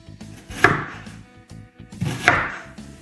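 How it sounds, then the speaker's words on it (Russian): Two sharp knife chops on an onion being cubed on a cutting board, about a second and a half apart, with soft music playing underneath. "Лук тоже нашинкуем кубиками."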